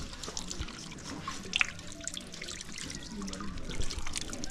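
Water trickles and pours steadily into a container being topped up during a village family's morning routine in Africa, a soft continuous splashing at moderate distance.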